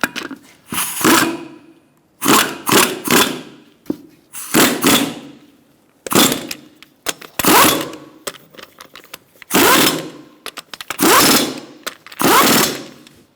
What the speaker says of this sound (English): We're going to tighten our lug nuts in a star-like pattern